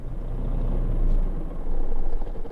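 A truck's parking brake being set in Euro Truck Simulator 2 while boarding a ferry, a low idling rumble with a soft pneumatic hiss swelling and easing, fairly loud and close.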